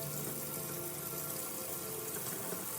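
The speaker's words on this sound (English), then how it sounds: "I'm going to run it under hot water" Hot water runs steadily from a sink tap with an even, hissing rush that continues unbroken for the whole few seconds.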